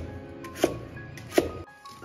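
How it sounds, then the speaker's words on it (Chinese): A knife cuts a quartered daikon radish into chunks for a Cantonese beef brisket and radish stew, making two crisp, close strikes on a cutting board about a second apart, with no talking. "先把它分成4瓣，然后再直刀把它切成块"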